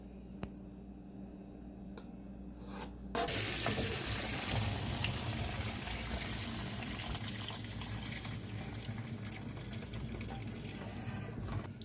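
Parboiling water from beef ribs seasoned with lemon and lime is poured off in a steady, close splash that starts abruptly after a few seconds of quiet kitchen clatter and runs on without pause.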